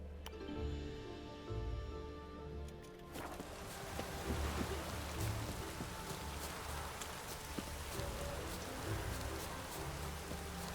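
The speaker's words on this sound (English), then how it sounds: "Hope it rains like this come solar time." Steady rain falls in The Witcher 3 video game, a constant hiss and patter across the whole stretch, with a faint clip-clop of hooves or footsteps mixed in and no talking.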